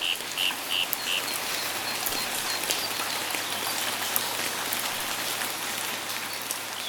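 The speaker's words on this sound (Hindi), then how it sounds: "एक दिन बड़ी तेज बारिश हुई।" Heavy rain pours down steadily in a dense, even hiss of drops striking surfaces, with a few faint chirps or croaks in the background and no voices.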